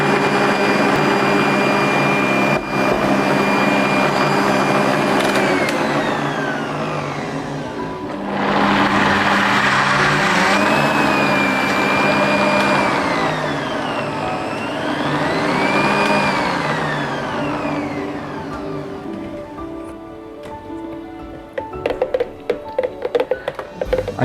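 A Bosch MUM5 blender blends avocado with water, its motor whining loudly and steadily, swooping down and up in pitch twice, then winding down into clattering near the end.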